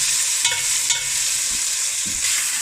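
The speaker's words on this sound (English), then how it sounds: "Right, so we're just going to brown off the meat. Give it a stir around." Beef browns in a hot pan for a spicy casserole, giving a loud, continuous close-up sizzle with a few soft scrapes as a utensil stirs the meat.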